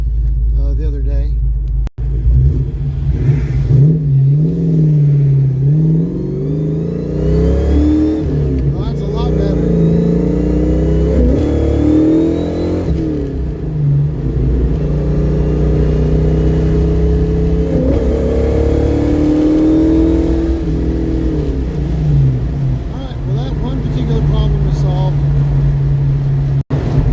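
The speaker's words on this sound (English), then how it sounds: "we're gonna go test drive this thing and make sure it's actually gonna run" A Ford Mustang with a 302 V8 engine, recently repaired for a dead cylinder, on a test drive. Its engine is heard as a steady loud rumble rising and falling through gear changes, with someone talking over it.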